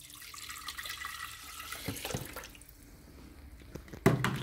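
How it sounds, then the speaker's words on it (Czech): Water poured into a blender jar holding broken headphone pieces, a steady trickling splash running under the whole clip, with a brief louder slosh near the end. "Tak si tam teď nalejeme vodu a to, co zbylo z těch sluchátek,"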